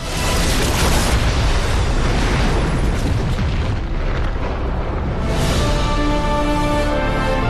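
A bomb explodes inside a building in an action film, a loud, sustained roaring blast with dense rumbling debris that fills the whole stretch.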